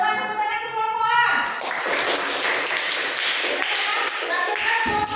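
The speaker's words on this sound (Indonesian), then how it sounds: "Coba tepuk tangan ke kelompok A." A classroom group claps for a presenting team, a burst of many hands applauding that follows a short stretch of talk and carries on briskly to the end.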